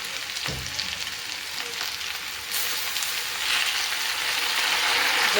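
Okra sautéing in a pan gives a steady broadband sizzle that grows a little louder toward the end, with a brief clink near the start and no voices.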